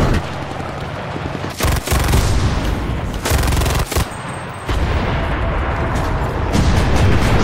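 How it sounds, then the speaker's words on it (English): Grenade blast amid heavy gunfire in the World War II shooter Enlisted, a dense, loud wall of booming explosions and rattling shots with brief gaps in between. "have a free grenade on the house"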